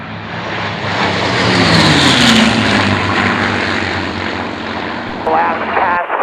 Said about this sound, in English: Mustang running in.